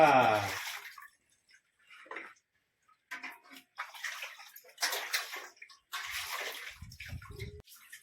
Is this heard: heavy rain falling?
no